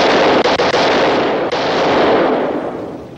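In a 1956 World War II film, 20 millimeter ammunition cooks off in a shipboard fire, a loud dense barrage of crackling bursts and pops that roars continuously for several seconds before easing slightly, with no voices.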